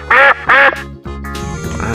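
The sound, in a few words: duck quacking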